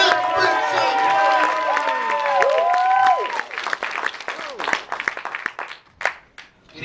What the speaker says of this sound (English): Come on, clap for Brent Schreiber.